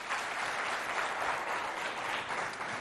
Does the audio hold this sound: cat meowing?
no